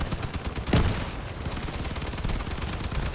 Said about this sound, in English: They've got a bunch of guys up on the cliff there that have some artillery cannons going.